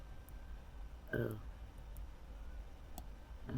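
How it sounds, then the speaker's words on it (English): A single key tap on a computer keyboard while modelling a mesh in Blender, a brief quiet click around the one-second mark with soft room noise and faint clicks later. "So I'm going to press L on my keyboard."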